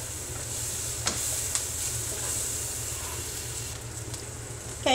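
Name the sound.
onions sizzling in a pan while being stirred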